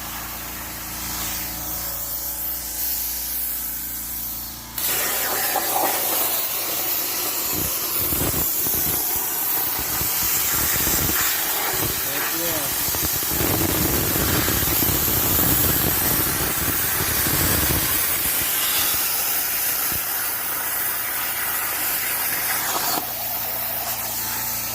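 An Eastwood 4x4 CNC plasma table cuts 3/16 steel with a loud, steady hissing roar, a broad rushing noise that fills the whole stretch after a sudden start, with faint crackle and ticking throughout.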